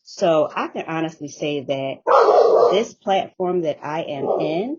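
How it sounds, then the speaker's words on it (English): A dog barks and whimpers in short yips between stretches of someone talking, with one longer, louder outburst midway, close to the microphone. "excuse the dog, I do have a dog"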